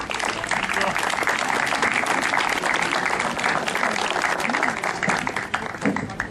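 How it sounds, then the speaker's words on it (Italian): An indoor audience at a civic gathering at Centro Pertini in Jesolo applauds, giving dense, sustained clapping that stays loud and even throughout, with a voice speaking over it. "per il quale è già stato dedicato l'applauso senza invito"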